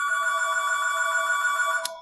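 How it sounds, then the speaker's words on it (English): A telephone bell rings steadily and fairly loud for about two seconds, a continuous electronic trill that cuts off sharply at the end, with no talk over it. "Phone's ringing."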